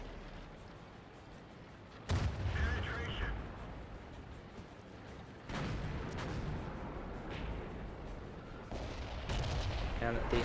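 A tank cannon fires in World of Tanks, the shot from an enemy IS heavy tank striking the player's Super Pershing, landing as a sudden loud boom with a second heavy blast a few seconds later over a busy battle rumble while a voice talks.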